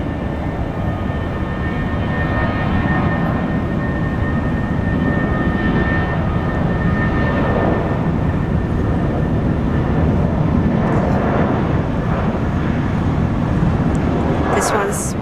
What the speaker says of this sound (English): Jetstar taking off.